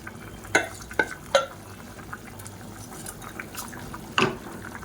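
Soaked basmati rice being stirred into boiling water in a pot, a few sharp spoon knocks against the rim over a soft bubbling, watery background, close and fairly quiet.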